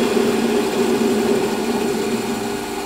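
A metal lathe cuts a part for a Stuart S50 model engine, spindle turning just under 700 RPM, giving a steady, even machine hum with a constant tone throughout and no talking.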